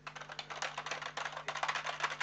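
Rapid typing on a computer keyboard while entering text in Microsoft Publisher, a steady close clatter of key presses over a faint hum.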